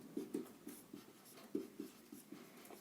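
Pen writing by hand on paper, a faint close series of short scratchy strokes in an uneven rhythm, with no talk.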